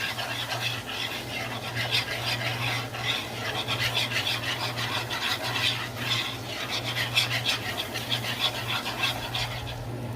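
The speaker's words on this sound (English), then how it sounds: "just add a little bit of flour and just stir that, let that flour cook out" Flour being stirred into a pan for a milk-based cheesy scalloped potato sauce, a steady close scraping and rubbing of spoon against pan with a low continuous hum underneath, no talking.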